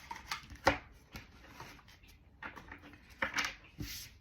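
Telepathy oracle cards being shuffled, soft papery riffles and taps coming in short uneven bursts, quiet and close, with no talking.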